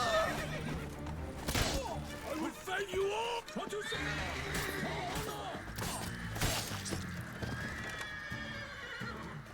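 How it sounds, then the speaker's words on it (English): In the video game The Witcher 3: Wild Hunt, a horse whinnies loudly several times amid hoof clops and scattered sword clashes, with people talking excitedly over it. "Whose horse is that?"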